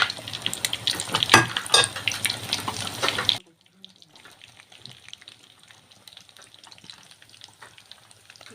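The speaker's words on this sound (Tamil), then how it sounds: "அதனால் அது போகிற அளவுக்கு வதக்கணும்." Paneer butter masala gravy sautéing in a pan, a loud busy sizzle and scraping for a few seconds that cuts off abruptly to a faint low hiss.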